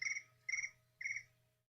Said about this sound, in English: one of my devices just suddenly kicked out crickets for some reason